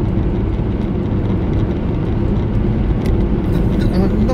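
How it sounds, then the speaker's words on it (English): A £200 car cruising at motorway speed, with a steady loud roar of road, wind and engine noise that stays constant from start to finish. "I'm now driving down a motorway at motorway speeds in it."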